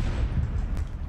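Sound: explosion in video game Call of Duty Black Ops 4 Blackout

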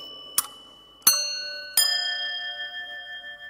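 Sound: sygnaturka, small church bells rung at the start of Mass

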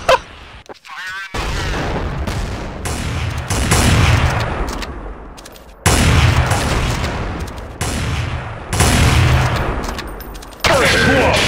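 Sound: gunfire in Counter-Strike Source video game

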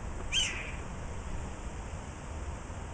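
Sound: Steller's Jay mimicking a red-tailed hawk call

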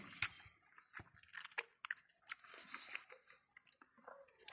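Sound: chewing a crunchy cherry

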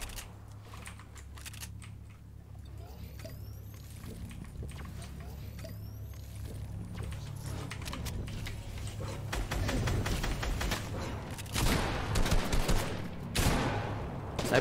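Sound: gunfire in Fortnite video game

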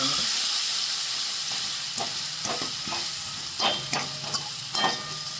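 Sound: crushed green chillies being sautéed in a pan

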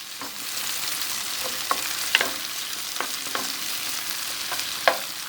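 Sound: meatball cubes frying in pan

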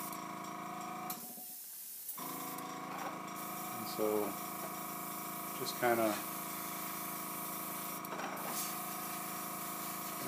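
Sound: airbrush spraying paint on a miniature tripod

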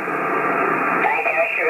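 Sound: amateur radio receiving contest transmission

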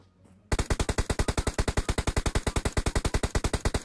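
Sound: gunfire in PUBG Mobile video game

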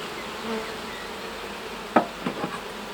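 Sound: honey bees buzzing at hive

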